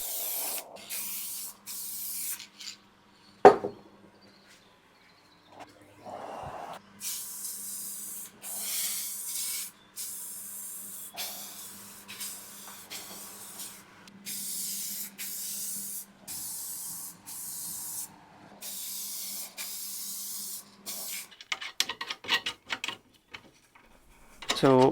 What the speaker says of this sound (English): just some walnut lacquer toner to make this green a bit darker and help it blend